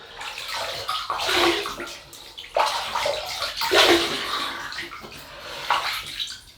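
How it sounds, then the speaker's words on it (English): Cool tap water splashed onto a face by hand before a double-edge razor shave, in several close bursts of splashing and running water with no talk. "Just wet this ugly face and we'll get going."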